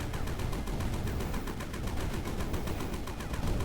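The mining gun in the video game Sandustry fires in a rapid, steady stream of evenly spaced shots, loud and continuous throughout with no talking.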